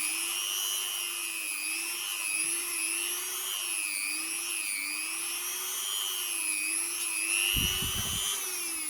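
A polishing machine spins a wool cleaning head loaded with red polish while a rag wipes off the excess, giving a steady high whine with slight wavering pitch and a brief low rubbing burst near the end.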